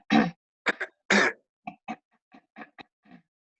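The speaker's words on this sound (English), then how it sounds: "Right where I cleared the throat." A person in a yoga class clears the throat: one loud rasping burst, then a string of shorter, fainter guttural throat sounds spaced over a few seconds, close and isolated in quiet.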